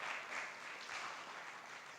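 A church congregation applauding, a dense, even wash of clapping that holds steady throughout, fairly distant and soft in the room.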